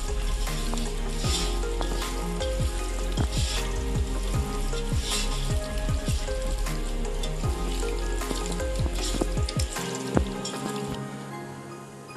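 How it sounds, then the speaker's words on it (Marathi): Chicken being mixed with fried onion, salt and turmeric for Hyderabadi chicken biryani: steady wet squelching and sizzle-like crackle, with repeated scraping strokes of a spoon against the pot, close and continuous. "आता मी हे चांगलं मिक्स करून घेणार आहे."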